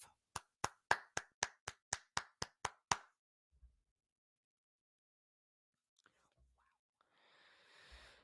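Hands clap about eleven times in a quick, even rhythm, each clap sharp and close, then the claps stop and only faint rustles and a soft whisper-like hiss follow.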